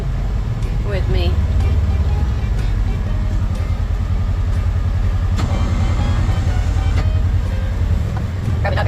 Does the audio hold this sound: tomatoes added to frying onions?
no